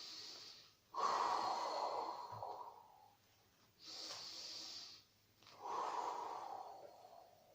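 A person inhales and exhales audibly during a Pilates exercise, with three breathy swells separated by short quiet gaps, close and soft, without talk.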